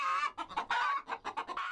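Chickens kept for sale in Egypt cluck in a quick run of short, choppy calls, close and fairly loud, with a brief pause midway before the clucking resumes.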